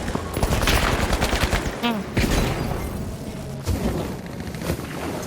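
Rapid gunfire in the video game The Finals, including sniper shots, in dense bursts of sharp cracks and booms throughout, with a voice speaking briefly over the shooting.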